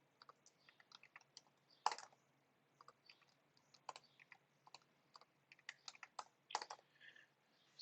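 Typing on a computer keyboard while writing Python code: quick, irregular bursts of light key clicks with a few sharper, louder taps, close and quiet with no talking.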